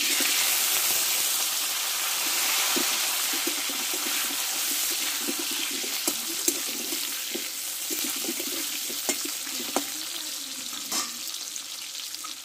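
Chilies, panch phoron and washed mango pieces fry in hot oil in a pan for a sour puti fish dish, giving a steady close sizzling hiss with scattered soft crackles and occasional utensil taps.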